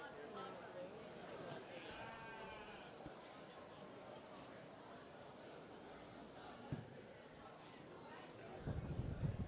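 Yearling hair sheep bleating at a livestock show, several faint calls heard at a distance beneath steady announcer talk and arena noise.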